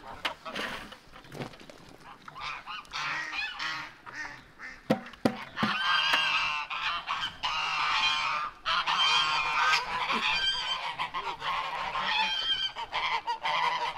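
A flock of geese honks noisily and continuously, loud and close, with scattered clatter and brief voices mixed in.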